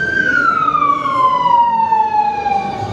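Simulated police car siren at a Las Vegas themed exhibit in Madame Tussauds, one loud close wailing tone sliding slowly downward and sustained throughout.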